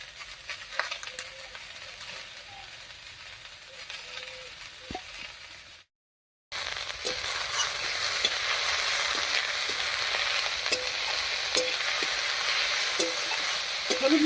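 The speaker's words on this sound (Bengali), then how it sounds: "হলুদ লবণ দিয়ে খুব ভালো করে মিশিয়ে নিয়েছি" Bottle gourd cooks in a pan with salt and turmeric while a spatula stirs it, a steady frying sizzle broken by repeated scraping strokes, close up and with no talking.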